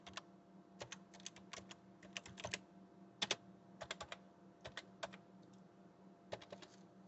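Someone types on a computer keyboard in uneven bursts of crisp keystrokes with short pauses between them, close and fairly quiet, no talking.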